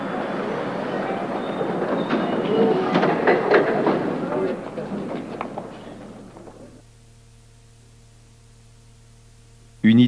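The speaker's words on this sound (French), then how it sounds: "Ah, tiens, voilà le métro." A metro train rumbles in close, a loud rolling clatter with rail squeals that swells and then fades to a quiet, low hum of the stopped train in the station.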